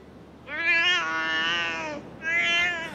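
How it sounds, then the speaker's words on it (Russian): A cat meows twice, drawn-out and close, the first call long and rising, the second shorter, with no other sounds around it. "Котик, ты, наверное, голодный."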